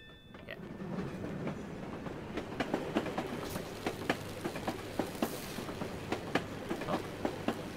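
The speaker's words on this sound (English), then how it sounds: "No one can see me on top of this train." Train wheels clack rhythmically over rail joints as a train rides along in a video game, regular sharp beats over a low rumbling drone, close and unaccompanied.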